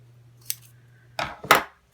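Scissors trim paper for a Christmas decoration, giving a faint early snip and then two sharper, louder cuts close by in quick succession, with a low steady hum underneath.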